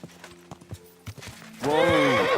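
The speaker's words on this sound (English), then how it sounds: "Easy, good horse." Horse hooves clip-clopping in the video game Kingdom Come Deliverance 2, a run of separate hoof strikes that gives way to a loud, sustained whinny at the end.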